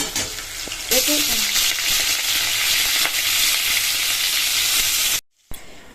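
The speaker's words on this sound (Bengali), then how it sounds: "তো যাই হোক আলুটা ভেজে নিই।" Potatoes fry in oil with a loud, dense hiss that surges up after a second and holds steady, with occasional stirring knocks, close up, ending in an abrupt cut to silence.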